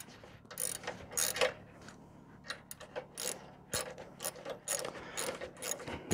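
Half-inch socket wrench ratcheting a nylock nut, a series of quiet, dry clicking bursts in irregular strokes with short pauses, close up and alone.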